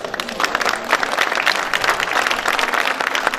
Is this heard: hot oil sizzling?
no